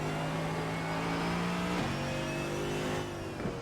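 Race car engine in the iRacing sim, heard from the cockpit: a steady loud drone holding pitch, with a brief gear-shift dip and a rev change near the end.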